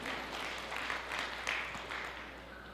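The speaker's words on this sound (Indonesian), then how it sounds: "Berikan tepuk tangan yang meriah buat Tuhan." A church congregation applauds at a worship service, quiet and distant, with soft, uneven clapping and rising bursts that fill the few seconds.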